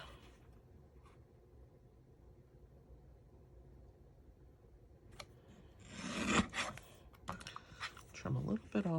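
Paper card stock for a sentiment on a handmade Valentine's card is trimmed with a cutter, giving short close rasping swipes and slicing sounds after a quiet stretch of faint background hiss.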